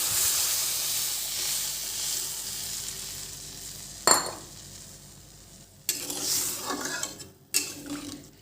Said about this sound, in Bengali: এর মধ্যে এখন আমি আরও জল অ্যাড করব। জল দিয়ে দেবো।